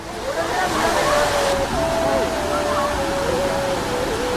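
Waterfall near Ramoji Film City outside Hyderabad, a constant loud rushing roar of falling water filling the whole stretch, with a faint voice-like tone running under it.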